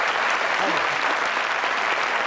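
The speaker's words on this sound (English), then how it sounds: "Give them a round of applause, ladies and gentlemen." Dense, loud studio-audience applause on a 1982 British television game show, a continuous wash of clapping from start to end with faint voices inside it.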